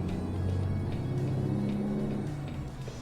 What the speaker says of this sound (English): engine roar.